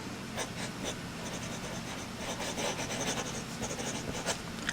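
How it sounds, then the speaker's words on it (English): A Kaweco fountain pen with a very feedbacky nib scratches across paper, a close, steady papery rasp with small rhythmic strokes and no voices. "I can definitely hear that when I write"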